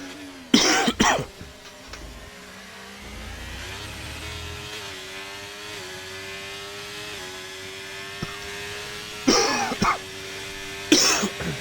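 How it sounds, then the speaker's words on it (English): Two bursts of harsh coughing, one near the start and another toward the end, over a steady hum of Formula 1 racing game engines at Imola in the background. "can't stop coughing, guys"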